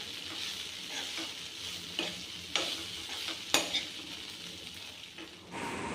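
Dosa batter hitting a hot pan gives a steady, close sizzle with a few sharp clinks of a utensil against the metal, and no voices.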